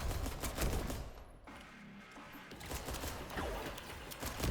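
Rapid bursts of pistol fire from the sci-fi shooter Galactic Vault, a weapon tuned to an SMG-like rate, crackle in dense, steady volleys for several seconds with brief dips, loud and continuous with no voices.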